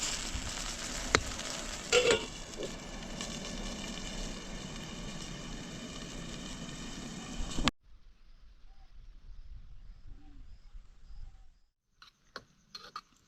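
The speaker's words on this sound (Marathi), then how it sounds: "कडवंचीची भाजी आता आपली शिजायला घातली मी आदनमधनं त्याला हलवून" Kadvanchi, a wild leafy vegetable, sizzles and is stirred in a pot over a low flame, a steady hiss with scraping for about eight seconds before falling quiet, followed by a few faint soft clinks.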